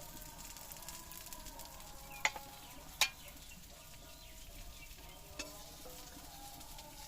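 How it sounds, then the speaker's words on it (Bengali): Low, steady sizzle of fish frying in oil, broken by two sharp clatters and a fainter knock. "দেখো মাছটা ভাজা হয়ে গেলো"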